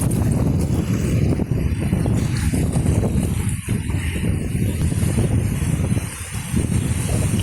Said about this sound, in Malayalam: ഈ വള്ളം കിടന്ന് അനങ്ങുന്നുണ്ടോ കാറ്റിന്? ഉണ്ടാ നല്ല കാറ്റാ.